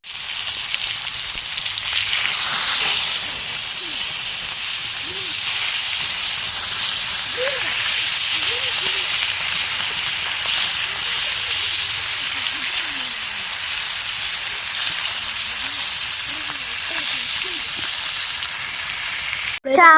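Fish fries in a pan at a children's campsite on a rainy night, giving a steady, even sizzling hiss throughout, while voices talk quietly underneath.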